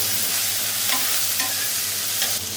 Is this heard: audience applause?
no